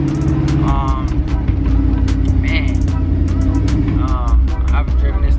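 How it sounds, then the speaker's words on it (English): Carbureted Chevrolet El Camino engine running steadily up close, a constant low rumble throughout while someone talks over it. "I've been warming this car up just to get it moving"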